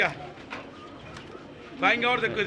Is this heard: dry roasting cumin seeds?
no